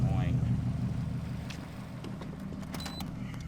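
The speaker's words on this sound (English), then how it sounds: "Let's turn off the car real quick just because this fucking sound is annoying." Idling car engine fitted with a Cobb SF intake, a steady low hum with faint whooshing and clicks, running continuously under a voice talking nearby.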